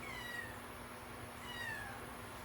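A cat gives two faint meows, one near the start and one midway, over a steady background hum.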